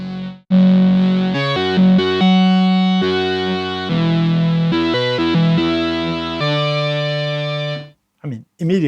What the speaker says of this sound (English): So we can have, for example, a high pass filter here going into a low pass filter.